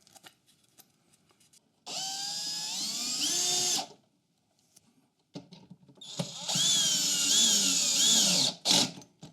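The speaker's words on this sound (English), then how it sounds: "I'm just going to drill the hole through so the bolt goes through" A power drill bores a bolt hole while fitting a dust collection enclosure on an Evolution Rage 5S saw, in two loud whining bursts of about two and three seconds with pitch wavering under load, separated by a short pause.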